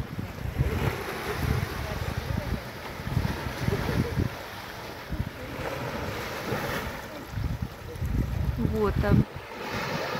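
Sea waves wash onto a rocky beach at Sharm el-Sheikh in Egypt, rolling in and pulling back in repeated close surges over wind noise, while a person speaks briefly.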